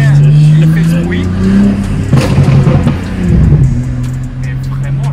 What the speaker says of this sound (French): Il y a une caisse qui vient. Elle fait ce bruit.